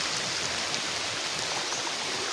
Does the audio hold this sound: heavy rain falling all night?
yes